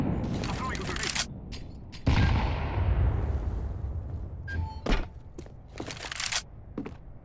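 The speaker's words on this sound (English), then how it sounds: "I'm throwing a grenade." A grenade thrown and detonating in a multiplayer shooter map: a sudden heavy boom with a long rumbling decay, set among sharp bursts of gunfire and other clatter before and after.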